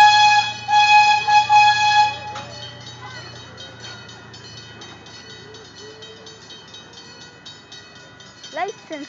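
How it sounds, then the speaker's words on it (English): A train at Irvine Park Railroad sounds a loud, steady horn for about two seconds, then fades to a low rumble with faint chirps and scattered background noise. "The train."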